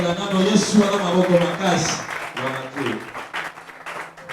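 Church congregation at a Rehoboth Ministries service cheering and applauding loudly for the glory of God, a swell of clapping and shouting voices that fades into scattered claps and talk.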